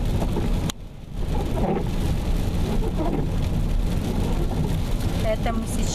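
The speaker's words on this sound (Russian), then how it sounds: "а здесь дождик." Rain beats steadily on a car driving along the road toward Rovno, a dense, continuous wash of noise mixed with tyre and engine rumble, with a brief dip near the start.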